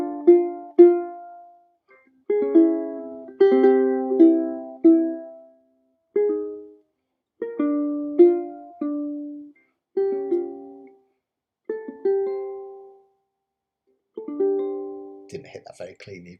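A ukulele plays a sweet chord melody of a song, a series of plucked and strummed chords with short pauses between phrases, close and clear, no talking.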